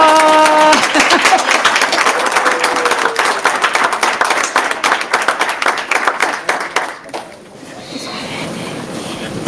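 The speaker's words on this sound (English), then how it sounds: "Let's give our students another round of applause, everyone" Audience applause for elementary school students at a Pontiac School District honors ceremony, a dense wash of clapping that runs steadily and then thins out toward the end, with brief talk near the start.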